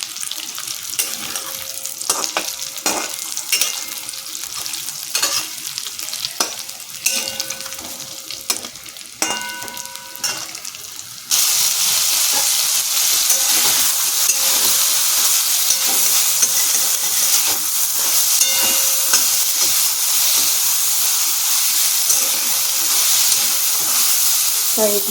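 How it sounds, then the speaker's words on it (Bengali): Soybean chunks fry in a pan while a pure vegetarian biryani is being cooked at home. Light sizzling and stirring scrapes come first, then a loud, steady hiss of frying fills the rest, with brief faint clinks scattered through. "নিয়ে সোয়াবিনগুলোকে ভাজবো।"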